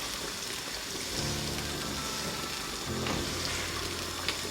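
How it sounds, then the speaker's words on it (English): Sliced garden eggs, or eggplants, stirred in hot oil in a pan, giving a dense, continuous sizzle like steady rain, with scraping stir strokes rising over it twice. "So you stir it together with the oil."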